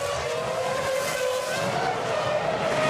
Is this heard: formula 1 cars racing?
yes